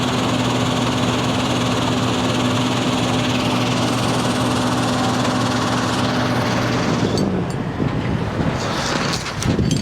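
An engine runs steadily at about 1100 rpm with a loud, even hum close by, then its tone shifts and roughens near the end.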